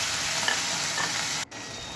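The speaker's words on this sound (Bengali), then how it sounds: "সেই মশলাটা দিয়ে খুব ভালো করে আবার একটু কষিয়ে নেব" A ground paste of cumin, chili and coriander frying in a pan, a dense, hissing sizzle that cuts out for a moment near the end, then resumes.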